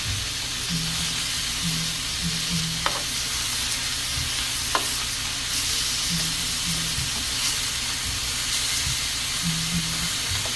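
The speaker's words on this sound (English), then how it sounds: "I want it to get a nice, good sear like that." Beef searing in a hot pan for homemade beef barbaro, a steady loud sizzle and hiss running throughout with occasional stirring scrapes, and no talking.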